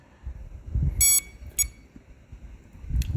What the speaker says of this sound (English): that beeping? Is that a warning?